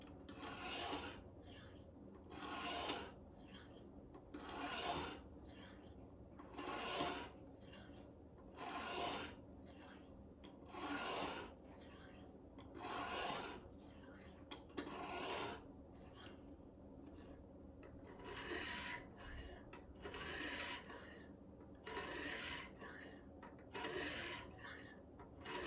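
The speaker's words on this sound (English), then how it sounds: "I'm going to sharpen this secondary edge, or the tip, whatever you want to call that." A kitchen knife's edge and tip drawn across a Gatco sharpener in steady back-and-forth strokes, about a dozen evenly spaced rasping passes, close and clear with no voices.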